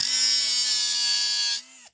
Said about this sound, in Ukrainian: Ось, беремо болгарку, беремо кусок металу.